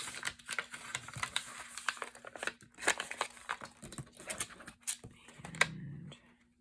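Paper pages for a junk journal crinkle and rustle as they are folded by hand, with close, quiet, irregular crisp taps and scrapes.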